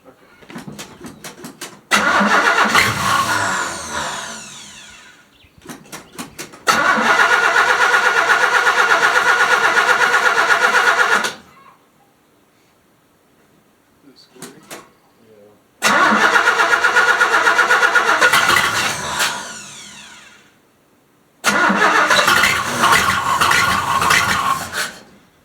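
A 1976 Chevy C10 Custom Deluxe engine cranking and catching with the choke open, in several long loud bursts split by short pauses and quiet gaps, with brief voices between attempts.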